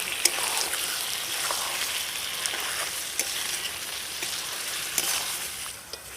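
Mutton curry with chopped tomatoes and a spoonful of meat stock being sautéed in a pan on a rooftop setup: a dense, continuous hiss of frying with occasional sharp spatters and utensil taps.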